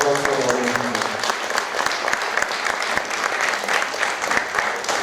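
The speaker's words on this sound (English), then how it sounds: "big round of applause for the audience members" Theatre audience at a mono acting festival gives a big round of applause, sustained and loud with dense overlapping claps and a faint voice underneath at the start.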